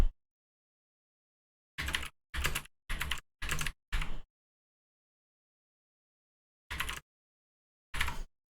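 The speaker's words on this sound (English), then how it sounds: "Will it pick up my typing?" Several short bursts of keyboard typing close up, a quick run of five clusters followed by two isolated bursts after a silent pause.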